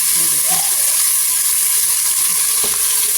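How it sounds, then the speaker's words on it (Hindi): Chopped tomato fries in hot oil with a loud, steady hiss and sizzle, with a few faint clinks near the start and another near the end. "इसमें मैं डालूँगी टमाटर कटिंग करके।"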